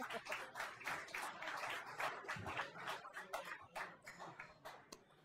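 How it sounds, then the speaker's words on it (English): Audience at a London functional-programming meetup applauds a speaker coming up to present, a faint, steady patter of many hands clapping throughout, with no talk over it. "Give him a round of applause, please."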